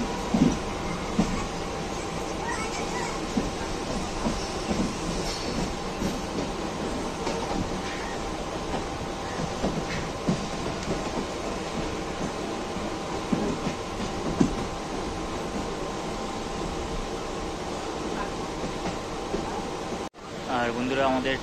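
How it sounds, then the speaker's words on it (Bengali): A Barrackpore to B.B.D. Bag local train rolls along with a steady rumble and rattle of the carriages, heard from inside, with a brief dropout near the end. "আমাদের ট্রেন আমাদের ব্যারাকপুর থেকে বিবিডি বাগ লোকাল একদম ঠিক তার নির্দিষ্ট সময় 9:34 ছেড়ে দিল 1A প্ল্যাটফর্ম থেকে"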